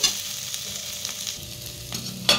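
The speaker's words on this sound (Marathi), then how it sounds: "बटाटे आपले शिजलेले आहेत, अजून 2 मिनिटं फक्त आपण हे वाफवून घेऊ।" Cooked potatoes steaming in a pan for a spiced potato side dish, a soft continuous sizzle with light scraping of the stir, and a louder clatter near the end, no voices.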